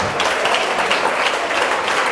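Audience applause at a women's empowerment conference, a dense, steady wash of many hands clapping together, loud and continuous throughout with no speech over it.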